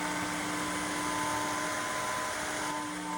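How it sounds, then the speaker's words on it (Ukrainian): A Dreame H15 Mix wet-dry vacuum picking up spilled soy sauce, running as a loud, steady motor whine and airflow roar that holds constant for the whole stretch with no talk. "я розлив для демонстрації соєвий соус, і пилосос може його прибрати дуже навіть легко за кілька рухів"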